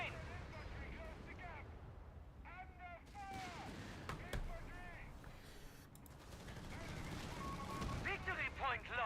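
Gunfire and artillery explosions from a Company of Heroes 3 match on the Operation Torch map, a cluster of sharp bursts and booms at middle distance, mixed with game voice lines and radio chatter.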